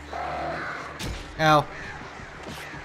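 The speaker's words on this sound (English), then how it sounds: "God damn it, these fucking crows, man." Crows in the video game Alan Wake let out a few harsh caws, and one loud cry stands out near the middle. A player's brief exclamation sits among the calls.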